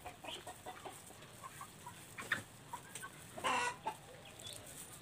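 Hens clucking in a backyard chicken coop, scattered soft clucks with a louder brief burst near the end, fairly close against faint background noise.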